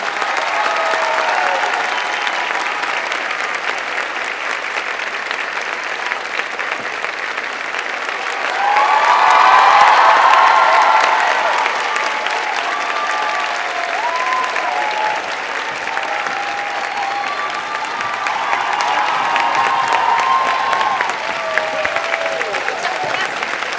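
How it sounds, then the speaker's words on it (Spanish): Theater audience applauding steadily for about 24 seconds as two guests are welcomed onstage at Teatro Oriente in Chile, with a louder swell of clapping and cheering midway and faint voices over the crowd. "Un gran aplauso."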